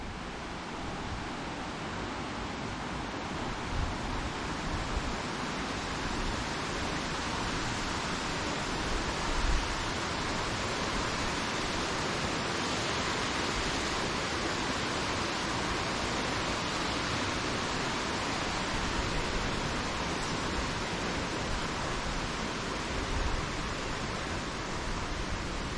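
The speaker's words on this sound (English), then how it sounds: "There's also a waterfall to the right." A waterfall beside a railway bridge on the rail line between Radella and Great Western in Sri Lanka gives a steady, full rushing roar of falling water that holds unbroken throughout, with no voices.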